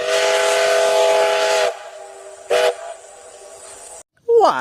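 A red-and-black toy train sounds its whistle: one long, loud, steady hooting tone close by, then a short second toot, then a brief squeaky blip at the end.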